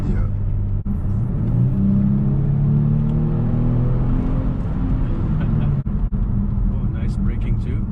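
A Kia sedan accelerates through its gears, the engine drone climbing in pitch, dropping at an upshift, then rising again as a steady interior rumble while people talk over it.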